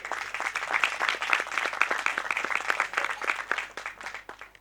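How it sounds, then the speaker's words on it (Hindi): Applause from the congregation at a Christmas church meeting in a Christian colony in Mardan, a dense burst of many hands clapping that swells and then gradually fades. "ताली बजा देंगे उनकी।"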